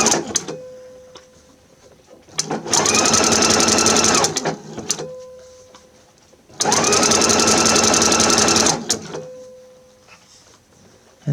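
Sewing machine stitching a completed cuff onto a sleeve bottom, running in two loud sustained whirring bursts of a few seconds each, separated by quiet pauses with small clicks and handling noises.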